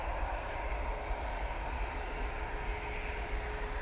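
A Ryanair airliner departing for Rome gives off a steady, moderately loud engine rumble with a faint tonal hum over it, unbroken for a few seconds, no talking.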